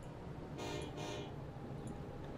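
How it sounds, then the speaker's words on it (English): A train rolls into a station in the Transport Fever game, sounding two fairly loud horn toots in quick succession over a steady rumble of rail noise. "So the second train is coming in."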